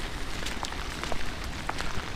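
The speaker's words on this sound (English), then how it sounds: "We got some rain going on here." Steady rain falls outside an abandoned house, a dense continuous hiss dotted with scattered close drop hits, with no voices.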